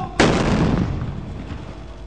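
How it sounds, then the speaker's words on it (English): Detonated bombs going off in a controlled clearance blast at Kismayu: one sudden, loud, close boom that erupts after a brief quiet and rolls into a long rumbling decay lasting nearly two seconds. "the bombs are detonated"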